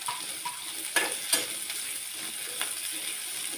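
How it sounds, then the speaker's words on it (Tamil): Ten garlic cloves sautéing lightly in a pan for a fish curry, a soft steady sizzle with a few sharp clicks of a spoon stirring against the pan, close and without talk. "ஒரு 10 பல் பூண்டு பல் எடுத்திருக்கேன். கொஞ்சம் லைட்டாக அப்படியே வதக்கிக்கலாம்."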